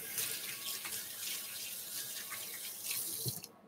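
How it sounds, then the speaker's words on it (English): Tap water running over hands rinsing off sticky cookie dough in a kitchen sink, a steady close splashing stream that cuts off at the end, no talk. "I'm gonna rinse my hands."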